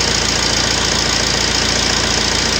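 A silenced Multijet diesel car engine idles loud and close, a steady, even rumble with a fine regular pulse throughout and no talk.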